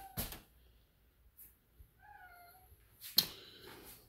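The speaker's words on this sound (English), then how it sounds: "Cat came in with us here." A cat meowing inside a rundown mobile home, one short clear meow in the quiet middle between sharp knocks and shuffling footsteps.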